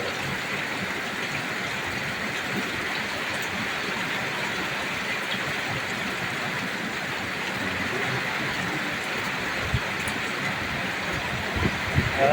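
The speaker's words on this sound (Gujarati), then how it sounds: "વરસાદ વરસી રહ્યો છે મિત્રો જવો ધોધમાર વરસાદ" Steady broadband rush of heavy monsoon rain in Gujarat farmland, continuous and even throughout, with a few faint knocks near the end.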